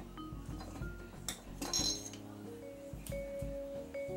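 A knife picked up among dishes while cooking Haitian pâté kodé, with several light metallic clinks and taps of cutlery against plates and glass, quiet and close.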